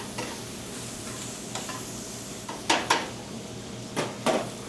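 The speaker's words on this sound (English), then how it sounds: "And let that saute." Shrimp, sausage and vegetables sauté in a pan with a low, steady sizzle, broken by several sharp stirring scrapes and clanks in small clusters near the end, and no voices.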